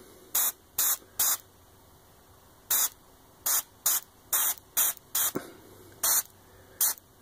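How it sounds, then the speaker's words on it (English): Short bursts of transparent paint sprayed from an airbrush or spray can onto a work-in-progress piece, about a dozen sharp hissing puffs in irregular clusters, close and fairly loud, with quiet gaps between. "the transparent paints means that I can do a little bit, take a look, move around, spray in some other places"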